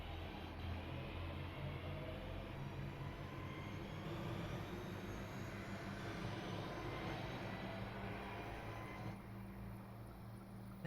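In Train Simulator 2021, a British Rail Class 323 electric multiple unit on the Cross City Line from Lichfield to Bromsgrove gives off a continuous, even motor hum. The drone stays steady and moderately loud, with no other sounds over it.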